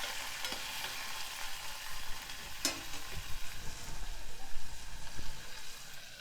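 Chopped carrots, beans and peas frying in a pan for multimillet rava upma, a steady soft sizzle with occasional stirring scrapes and a sharp clink of a spoon near the middle, no voices.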